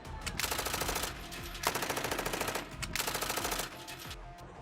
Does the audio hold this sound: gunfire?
yes